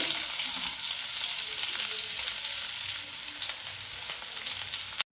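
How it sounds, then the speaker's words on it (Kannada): Chopped onions sizzle in a little hot oil with mustard seeds in a pan, producing a steady, close hissing crackle that continues evenly before cutting off abruptly at the end. "ಕಟ್ ಮಾಡಿರೋ ಈರುಳ್ಳಿನ ಹಾಕೋಣ"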